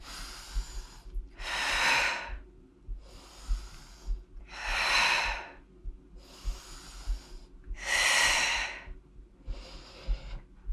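Several forceful breaths come in a regular pattern during a tricep dips workout on a step stool. Loud exhales alternate with softer inhales, close to the mic, over a faint low hum, with no talk.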